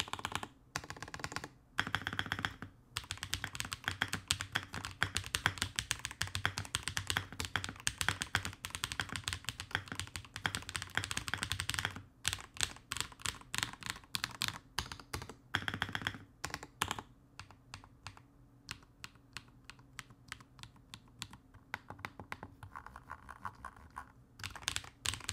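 Steady, fast typing on a Redragon budget computer keyboard, crisp close key clacks in continuous bursts with brief pauses and no talk.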